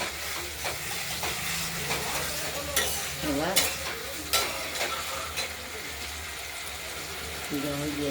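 Water added to fried masala for a rohu fish curry with potato, beans and tomato, giving a continuous sizzle and hiss with repeated stirring scrapes and a soft voice talking in the background.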